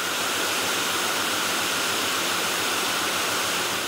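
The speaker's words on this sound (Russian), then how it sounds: "Это переносной лафетный ствол комбитор 3000. Он способен с подачи воды на максимальный 3000 литров в минуту." A portable Kombitor 3000 fire monitor nozzle, rated for up to 3000 litres per minute, sprays water during a wildfire-fighting drill, a loud, constant, dense hiss and roar that holds unbroken from start to end with no talk.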